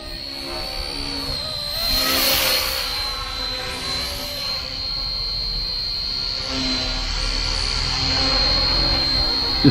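A WLtoys XKS K-Series BlackHawk or SeaHawk RC helicopter hovers outdoors in wind, a steady high-pitched motor whine with rotor buzz and gusty wind rumble.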